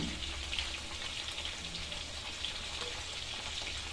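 Katla fish pieces fry in hot oil in a pan as salt goes in, giving a dense, continuous sizzle close by with a faint stirring texture and no voices.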